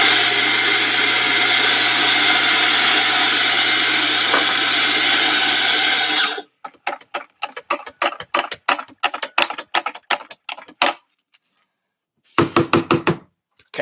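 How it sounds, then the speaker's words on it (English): Espresso coffee grinder running steadily and loudly through old grounds for several seconds, then cutting off into a fast series of short knocks and taps, with a last cluster of clatters after a brief silence. "We just need to grind through that and get to fresh coffee."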